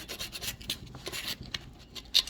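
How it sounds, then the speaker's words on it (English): Sharp aluminum edge being sanded by hand with 400 grit sandpaper on a 1997 BMW R1100 GS transmission part, short faint scratchy rubbing strokes up close, no talking. "So with a 400 grit, just take the edge off, so it's not as sharp."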